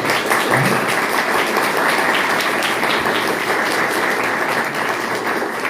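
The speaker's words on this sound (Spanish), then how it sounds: "Le vamos a dar un fuerte aplauso a Lourdes" Strong, steady audience applause at a panel session of academic talks, an even wash of many hands clapping that holds at a constant level throughout with no voices over it.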